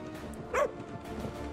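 A dog in a restaurant-management video game gives one brief, quiet bark over a faint, steady background.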